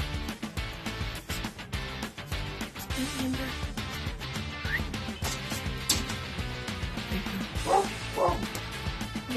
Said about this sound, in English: Oh, puppy dogs.